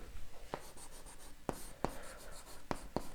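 Quick strokes and taps of someone writing out an algebra equation during a math lesson, with a few sharp, distinct marks spaced irregularly over a quiet background and no talking.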